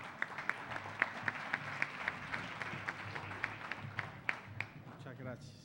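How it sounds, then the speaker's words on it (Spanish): A conference audience at a constitutional law congress claps to welcome a speaker, with a scattered, sparse clapping of individual sharp claps in a loose rhythm, moderately distant, tapering off as a voice begins near the end. "Le solicito que lo recibamos con un fuerte aplauso"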